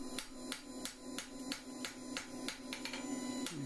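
A blacksmith hammers an iron bar on an anvil while forging a shepherd's crook finial, with about ten sharp ringing blows at a steady rhythm over a constant low hum, close and with no talking.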